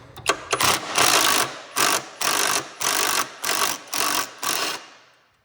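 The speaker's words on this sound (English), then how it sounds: "on this back side, I use a 13 millimeter, couple long extensions, and then my little impact gun" A small impact gun with a 13 mm socket on long extensions works a bolt on a Toro 30-inch walk-behind mower during a belt swap, firing in about eight loud, close, rapid mechanical bursts separated by short pauses.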